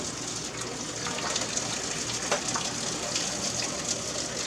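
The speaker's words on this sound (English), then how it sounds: "now we're gonna take it over to the sink, and we're gonna drain it." Steady broadband rush of pasta water pouring into a sink as pasta is drained, continuous and fairly close, with no talking.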